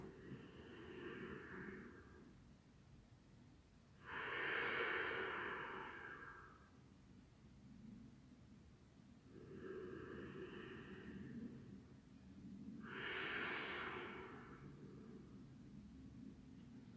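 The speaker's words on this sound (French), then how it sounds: "On respire." Slow, deep breaths during a bedtime yoga session, with four long inhale and exhale swells spaced a few seconds apart, close and soft over a quiet room.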